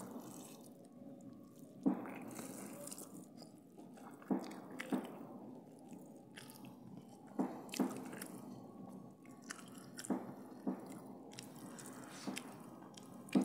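Someone eats meat curry with soft wet chewing and squishing, broken by sharp biting clicks that come every couple of seconds, quiet and close with no talk.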